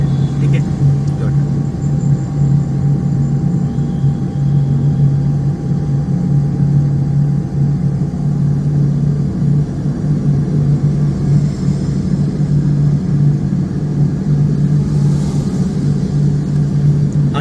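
Steady, loud car engine drone during a driving lesson, holding an even low rumble with little sign of revving up, continuous throughout.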